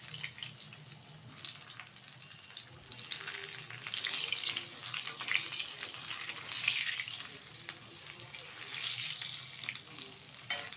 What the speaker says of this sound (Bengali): দিয়ে দিচ্ছি টুকরো করে রাখা বেগুন। ভালো করে ভেজে নেব।